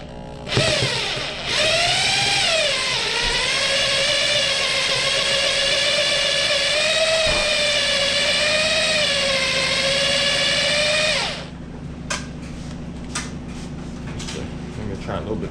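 A power drill turns a screw extractor on a KX65 engine, whining loudly and steadily for about ten seconds with its pitch dipping and rising before it cuts off, leaving faint clicks.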